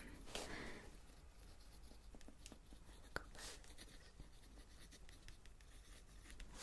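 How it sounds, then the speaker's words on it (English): Pen writing notes on paper at a medical supplies store counter, quiet close scratching strokes with small taps, soft and steady throughout. "let me just write down your SM"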